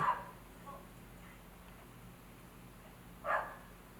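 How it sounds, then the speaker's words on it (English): A dog barks in the distance, with a short burst at the start, a faint yip partway through and a louder bark near the end over a quiet room background. "I don't know if you can hear this dog barking"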